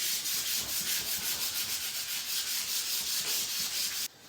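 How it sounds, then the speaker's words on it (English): Painted wooden plank sign, a round patriotic piece, being sanded by hand: loud, close, continuous rhythmic rubbing strokes with even pulses that stop abruptly near the end. "let's get that to sand"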